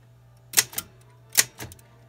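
Two pairs of sharp, close mechanical clacks from keys struck on a Royal 10 manual typewriter, each strike followed quickly by a lighter second tap, with a low steady hum underneath and no talking.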